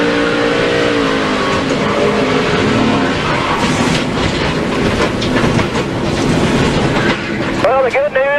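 Onboard audio from a NASCAR race car at the 2006 Dollar General 300 as it loses grip and spins: a loud, continuous engine roar with dense harmonics fills the scene, and a sharp rising whine or tire squeal appears near the end.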